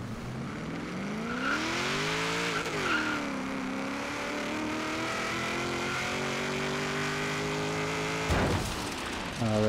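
A V8-swapped 900+ horsepower 2009 Honda S2000 launches from a held 2,000 RPM, its engine note climbing and wavering steadily while tires squeal under spin, ending in a short sharp burst.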